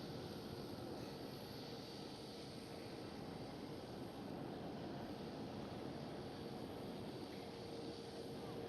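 A Qatar Cargo Boeing 777 freighter lands at Schiphol Amsterdam, its engines a faint, steady, wide rushing roar from far off, unchanging throughout.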